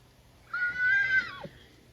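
A tethered horse lets out a single loud, close whinny lasting about a second. It rises and falls in pitch before trailing off, over a quiet background.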